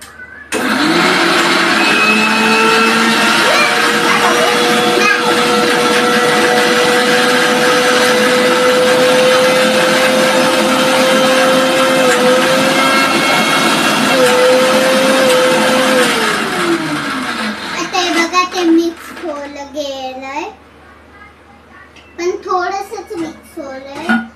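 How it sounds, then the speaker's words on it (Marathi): A mixer grinder runs with a loud, steady motorized whirring for about seventeen seconds and then winds down. Brief voices and clatter follow once it stops. "आता मी मिक्सर लावते"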